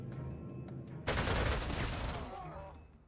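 Aircraft strafing gunfire in the strategy game Panzer Corps 2, a sudden dense fusillade of rapid shots that swells into a roaring burst and trails off over a few seconds.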